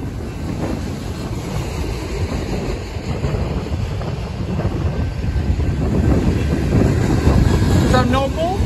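A BNSF freight train passes close by outdoors, its heavy rumble and clatter of rolling cars building steadily under wind buffeting on the microphone, with a voice briefly heard near the end.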